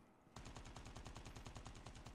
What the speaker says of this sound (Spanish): Otro pegando disparos.